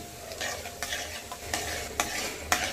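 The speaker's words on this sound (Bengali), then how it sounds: "ফোড়নটাকে ভালো করে ভাজতে হবে গ্যাসের ফ্লেম কমিয়ে।" Bay leaf, dried red chilli, whole garam masala, cumin and five-spice seeds fry in hot oil over a low flame, sizzling steadily while a spoon stirs the pan in several distinct scraping strokes.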